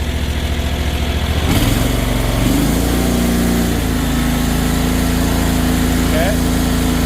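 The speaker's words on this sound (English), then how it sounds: "let's check the throttle here a little bit, see how it does." A small engine runs loud and close as the throttle is worked, its pitch stepping up in a few quick revs before holding at a steady higher idle.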